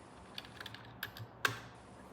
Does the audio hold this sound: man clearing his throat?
no